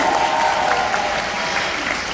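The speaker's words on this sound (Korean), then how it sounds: "오늘 제가 센 강의 할 수 있도록 여러분 많이 박수 부탁드립니다." An audience at a motivational seminar claps loudly and steadily, a full, even roar of many hands, with a brief faint tonal cheer or whoop near the start.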